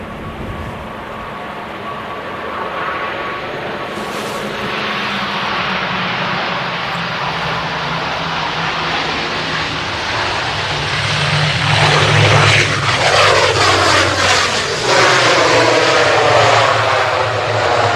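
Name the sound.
airplane arriving on runway 05R at Manchester Airport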